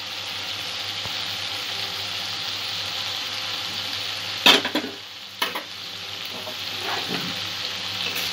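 Spice paste with a little water and salt cooks down in a pan for chaal potol. It gives a constant sizzle with a couple of distinct scraping stirs midway and quieter stirring after, and nobody speaks.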